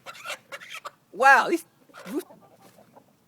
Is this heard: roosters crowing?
yes